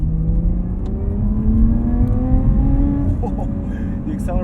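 A 2020 Lotus Evora GT accelerating hard in sport mode, its engine note climbing steadily in pitch through the revs, loud and close from inside the cabin with a brief shift near the end.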